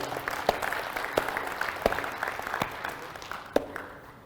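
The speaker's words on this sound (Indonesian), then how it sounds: "Tepuk tangan untuk Bapak Ibu." Audience applause at the Indonesia Green Awards 2023 evening ceremony, a moderate, even patter of clapping from a hall crowd with a few sharper claps standing out, fading slightly toward the end.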